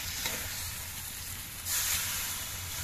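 Jackfruit curry frying in oil in a pan gives a steady close hiss and sizzle, which swells louder partway through as broth is poured in.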